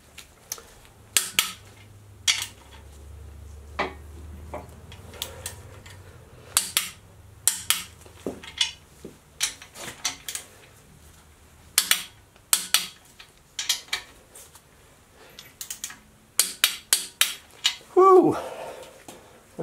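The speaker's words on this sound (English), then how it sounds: "I'm going to start torquing them in sequence." A torque wrench tightens engine bolts one after another, giving sharp close clicks in short clustered bursts with gaps between, and a brief vocal sound near the end.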